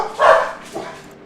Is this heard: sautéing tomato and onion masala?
no